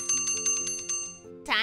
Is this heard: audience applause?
no